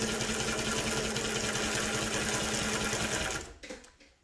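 A Mannan three-thread chain stitch embroidery machine runs at a fast, steady, loud mechanical whir for about three seconds, then stops abruptly into quiet.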